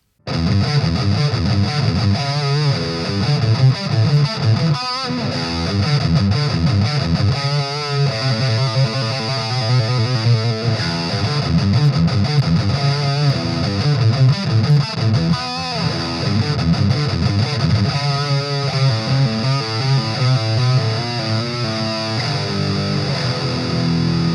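Distorted electric guitar plays riffs and chords through a Fender Champion II 25 practice amp, with crunchy overdriven tone and sustained notes, continuous and fairly loud with no talking.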